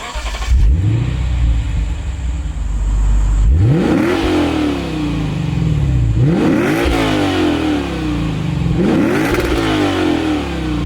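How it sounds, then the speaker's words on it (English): A Lexus RC F Fuji Speedway Edition engine revs hard several times, each rise in pitch ending in a burbling drop, loud and close with a raspy exhaust note. "an exhaust that sounds angry"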